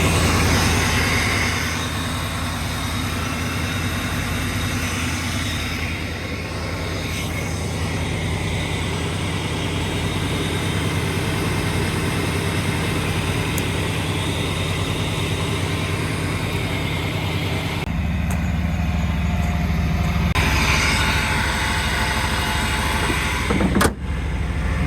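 A Chevrolet C1500 Step Side truck engine idles steadily with a low, constant rumble, low on fuel, running nearby for the whole stretch with no talk and a brief clunk near the end.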